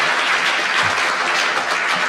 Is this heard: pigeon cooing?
no